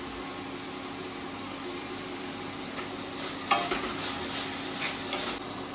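Ginger garlic paste sizzles steadily in a hot pan after cloves go in, a constant frying hiss with a few brief scrapes of stirring late on.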